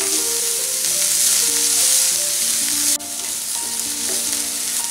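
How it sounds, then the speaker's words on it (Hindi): Capsicum frying with mixed vegetables and mushrooms in a pan for soup, a loud continuous close sizzle with stirring scrapes, briefly dipping near the end, no voices. "शिमला मिर्च डालेंगे, इसे भी हम 1 मिनट तक फ्राई कर लेंगे"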